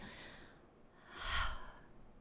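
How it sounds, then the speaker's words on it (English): One slow, audible breath, a soft, airy inhale and exhale swelling briefly and close, alone in a quiet room. "let's just take a breath"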